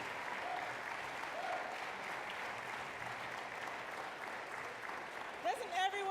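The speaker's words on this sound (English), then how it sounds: "And one more round of applause to my introducer." Applause from an audience at a speaking event, a soft, distant wash of many hands clapping continuously, with a voice breaking in near the end.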